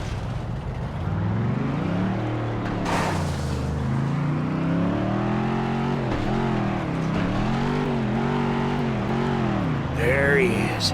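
Flatbed truck driving in the Dukes of Hazzard video game, a steady engine drone rising and falling with revs, running continuously under game sounds, with a brief higher burst near the end.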